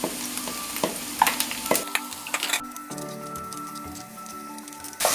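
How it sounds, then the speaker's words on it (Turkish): Minced meat frying in a pan with sautéed onions, a steady close sizzle with scraping stir strokes and a few clinks of the utensil, no voices. "Kıymamızı ilave edelim. Suyunu salıp çekinceye kadar kavuralım."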